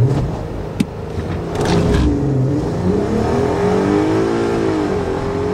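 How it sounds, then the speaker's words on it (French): A Volkswagen Golf 5 R32 launching hard with launch control, its engine revving up sharply then pulling in a rising, strained acceleration tone heard close and loud, with a brief sharp knock near the start. "on va quand même tester le launch control pour voir ce que ça donne"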